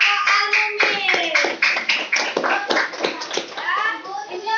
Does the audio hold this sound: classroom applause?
yes